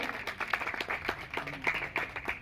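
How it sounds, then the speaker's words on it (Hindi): An audience at a physical training academy event applauds with a steady patter of many hands clapping, moderately quiet and continuous, with faint voices underneath. "आप सभी बच्चों को आशीर्वाद देने के लिए जोरदार ताली बजा करके सम्मान करें।"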